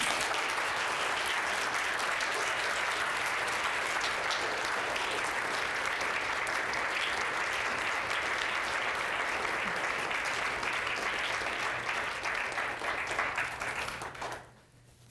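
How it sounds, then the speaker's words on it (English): Sustained audience applause fills a venue after an evening talk at the Banff Centre, dense and steady clapping from a large crowd that holds for about fourteen seconds before dropping away abruptly. "I thank you very much for your applause"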